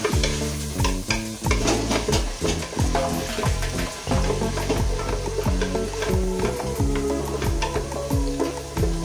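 Spice paste for opor ayam sizzles loudly in hot oil while being stirred, with a dense, continuous frying hiss and rhythmic scraping throughout.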